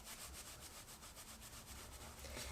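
Faint, rapid rubbing of Modibodi Classic period underwear fabric up close, a steady series of light hissing strokes with no one talking.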